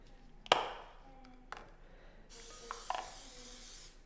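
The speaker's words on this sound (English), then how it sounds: "I like to always spray my casserole dish" A short burst of cooking spray hisses near the mic as it coats a casserole dish, then a few light taps and clatters, followed by a longer, steady spraying hiss.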